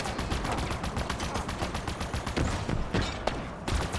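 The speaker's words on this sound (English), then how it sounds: "Getting shot at from all sides" Rapid gunfire in Halo Infinite, dense bursts of automatic shots and scattered single cracks coming from several directions, loud and continuous with no voices.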